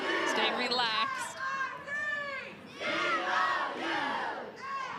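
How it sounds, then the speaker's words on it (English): A Missouri crowd cheers and chants loudly at a Little League softball game, many voices rising and falling in steady waves of shouting throughout. "And now the Missouri crowd into it."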